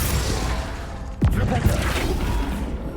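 Flipendo spell cast in Hogwarts Legacy inside a greenhouse, a single sharp whooshing burst with a low thump, followed by a smaller second hit, over steady game ambience.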